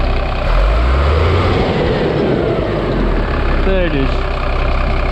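A Euro 2 diesel engine idles steadily with a low, continuous rumble, while a voice speaks briefly over it near the end.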